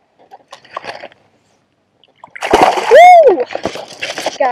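A 5 lb 7 oz largemouth bass slips back into the water on release during a bass season opener, giving a burst of splashing and sloshing partway through, with voices talking before and over it.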